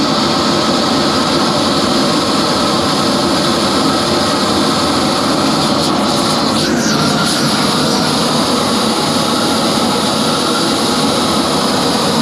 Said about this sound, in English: check out this weed burner